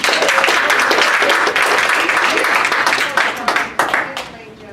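Students at a leadership academy workshop give a burst of lively clapping that starts strong and thins into a few scattered claps before dying out.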